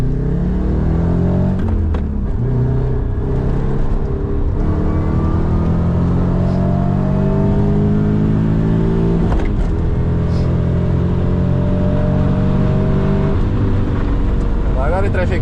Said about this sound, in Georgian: ბევრი მანქანაა საკმაოდ.